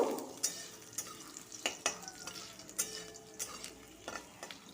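Crushed garlic frying in hot oil with bay leaf, dried red chilli, cardamom, cloves and cinnamon, a soft steady sizzle broken by sharp clicks of a spoon stirring against the pan, close and alone.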